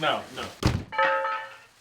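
Juggling hammers dropped indoors, making a heavy thunk and clatter in the middle of the clip, with a ringing tail afterwards and people talking just before.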